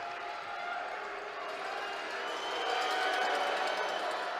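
A basketball crowd roaring after a missed free throw, a broad sustained roar from the stands that swells toward the end, with no talk over it.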